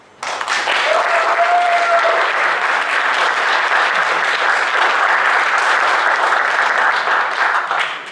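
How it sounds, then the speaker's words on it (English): Audience applause at an engineering debate on intelligent transport systems, a sudden, loud, sustained roar of many hands clapping that holds steady for about eight seconds before stopping, with a brief whistle-like tone early on. "So if you believe that the affirmative team won, clap now."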